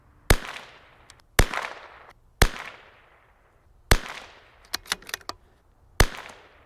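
A CZ 457 .22LR precision rifle fires five sharp, loud reports at irregular intervals of about one to two seconds, each with a brief decaying echo and a few lighter clicks between the shots.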